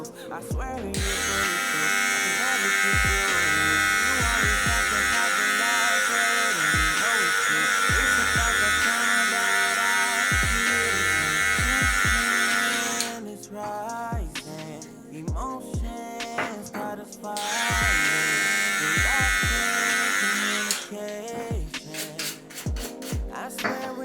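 An electric hair liner trimmer buzzes steadily while cutting a guideline during a self haircut, the high whine dropping out briefly midway amid small handling clicks and knocks, then returning close and loud.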